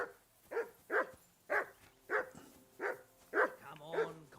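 In the medieval game Kingdom Come: Deliverance II, a dog barks steadily, about eight sharp woofs at an even pace, ending with a short whine. The barks are close and fairly quiet, and no voices are heard.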